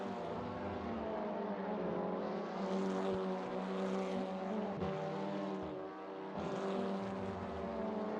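Simulated TCR touring car engine at Spa-Francorchamps in a sim racing game, a loud droning tone rising and shifting under full throttle, steady and continuous without talk.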